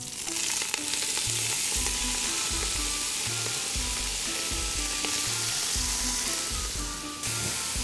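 A whole bunch of spinach frying with garlic in oil for a lasagna, a loud, steady close sizzle with periodic low thumping stirs and scrapes of the pan, no voices.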